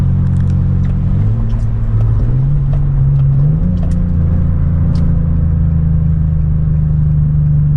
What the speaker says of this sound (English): But I will give y'all some downshifts though.